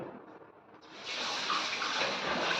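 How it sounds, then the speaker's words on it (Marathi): Quiet handling at first, then water gushes loudly and steadily, swirling close by as mutton is rinsed in it. "शेवटच्या पाण्याने धुवून स्वच्छ करत आहे"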